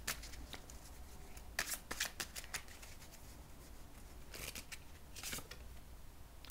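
Cards being handled and drawn from a deck, a series of soft riffling and sliding bursts in uneven clusters, close by and faint in a quiet room, with no talking.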